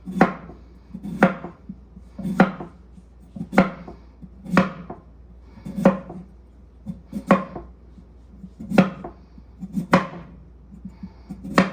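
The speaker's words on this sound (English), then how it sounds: "We start on our next potato. Just slice them." A knife slicing through a raw potato on a cutting board, about a dozen crisp, evenly spaced chops close up with a steady rhythm and no talking.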